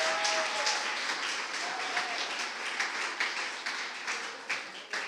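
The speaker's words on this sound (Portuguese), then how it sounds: "Aplauda o Senhor," A church congregation claps together in praise, a quiet dense patter of many hands with scattered sharper claps, heard from some distance in the hall.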